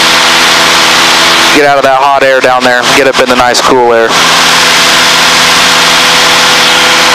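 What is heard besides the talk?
Air Plains 180 HP light aircraft engine in flight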